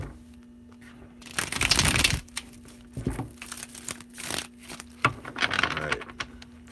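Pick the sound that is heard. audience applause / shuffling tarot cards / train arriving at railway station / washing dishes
shuffling tarot cards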